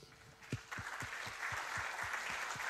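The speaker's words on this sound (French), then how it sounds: "On va peut-être t'applaudir déjà." A room audience applauds a speaker after a talk on multi-agent systems, giving a short burst of clapping that starts with distinct claps and quickly builds into a dense, steady patter.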